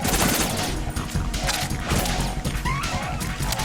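Rapid M4 rifle gunfire in Metal Gear Solid 2, loud dense bursts of shots close up with crashing impacts, continuous through the moment.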